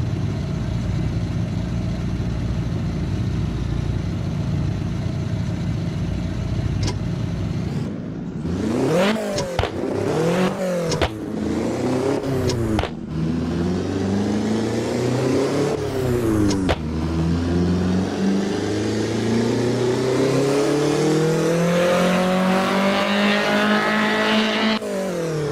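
A naturally aspirated car engine in Assetto Corsa roars loudly through a dyno run, holding a steady drone before repeated sharp rev sweeps and a long climbing pull to high revs.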